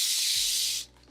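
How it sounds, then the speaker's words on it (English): One hand-pumped spray bottle burst mists fabric before ironing during bag sewing: a sharp, close hiss lasting under a second that cuts off abruptly, leaving a faint low hum. "I'm gonna spray it first."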